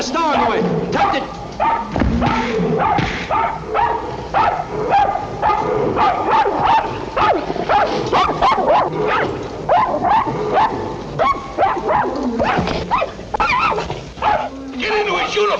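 A dog barks and yips repeatedly amid a busy scene, its sharp calls overlapping with loud, agitated voices of people shouting orders nearby.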